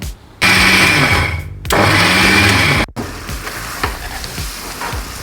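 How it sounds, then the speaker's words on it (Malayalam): A mixer grinder grinds roasted coconut for a Kerala catering-style chicken roast, running loud and close in two whirring bursts, followed by a softer, steady sizzle of frying. "തേങ്ങ വറുത്തത് അതൊന്ന് അരച്ചെടുത്തുകൊണ്ട് വരാം"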